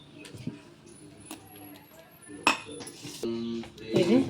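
Idli batter being mixed with salt in a bowl, giving a run of scattered clinks and scrapes of a utensil against the dish, with a louder knock midway and a busier scraping burst near the end.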